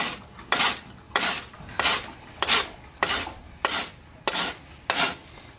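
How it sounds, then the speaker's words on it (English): A rasp files a horse's hoof during trimming, about eight evenly spaced rough scraping strokes close up, each a short loud rasp with quiet gaps between, and no talk. "you can do it with a rasp almost as quickly"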